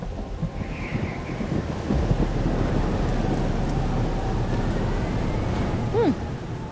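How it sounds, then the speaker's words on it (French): A thunderstorm with rain in the video game Life Is Strange Double Exposure: steady heavy rain hiss and wind with rolling thunder that swells about midway, loud and continuous. "C'est le retour de la tempête."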